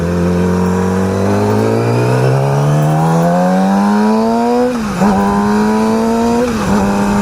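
A motorcycle engine with an aftermarket slip-on exhaust runs loud and close, its droning note climbing steadily in pitch as it revs, then dipping briefly and settling into a raspy high hold.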